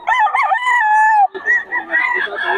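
A locally banded Boston Sweater gamefowl rooster crows loudly and close by, one drawn-out call followed by rougher, shorter throaty sounds.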